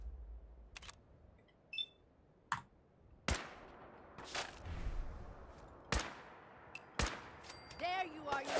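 Sharp gunshots ring out in the video game Fallout 4, spaced a second or so apart, with smaller clicks and electronic blips between them.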